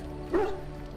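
A single short dog bark indoors, one sharp yip-like sound, fairly close and clear against a quiet room.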